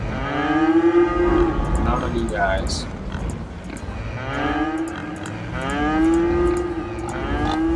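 Cattle lowing in the city-builder game Cities: Skylines, with several long, drawn-out moos rising and falling in turn, fairly close and loud, while someone talks over them.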